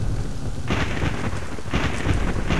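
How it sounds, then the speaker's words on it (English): Two heavy cracks of thunder burst over steady pouring rain in the video game Ninja Shadow of Darkness, each a loud broadband roar lasting under a second, with no voices. "Here comes the thunder"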